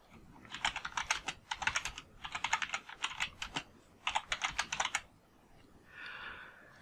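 Rapid bursts of typing on a computer keyboard, close and fairly quiet, in several clusters of quick key clicks separated by short pauses, with a softer brushing sound at the end.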